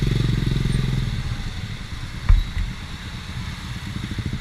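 A Honda Supra motorcycle engine putters steadily with a low, pulsing rumble, accompanied by a brief clatter midway, as if heard while riding along at night in Banda Aceh.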